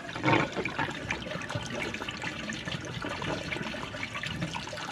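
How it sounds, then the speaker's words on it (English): Water drains from an opened valve on a home water system, a continuous splashing gush with a stronger burst at the start, then a steady trickling flow. "We can open this up as well, just to get rid of any of the water out of it."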